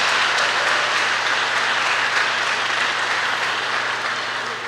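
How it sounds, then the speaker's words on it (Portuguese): Church congregation applauding loudly and steadily during a worship service, a dense wash of many hands clapping that fills the whole stretch without talk, fading slightly at the end. "Dê um aplauso poderoso para Jesus"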